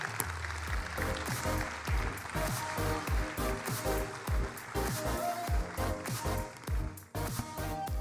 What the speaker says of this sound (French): Nous pouvons l'applaudir chaleureusement